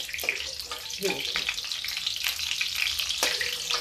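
Okra (bhindi) frying in a little oil, a steady close sizzle with occasional stirring scrapes throughout.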